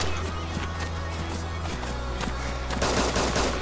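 SKS rifle fire in the game DayZ rattles off as a dense stream of sharp, fairly close shots with rapid footstep-like clatter underneath, growing louder toward the end.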